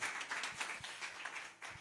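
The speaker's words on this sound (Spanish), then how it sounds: "Si le van aplauso al Señor, déselo con todo su corazón." A church congregation at a Holy Week service claps together, a loose scatter of hand claps running through the whole stretch at moderate, somewhat distant volume.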